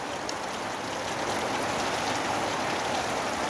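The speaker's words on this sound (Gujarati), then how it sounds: "અત્યારે સારો એવો વરસાદ આવે છે" The season's first rain falls steadily over the village of Bhayasar near Rajkot, a dense, even hiss of drops on surfaces close at hand, with no voices.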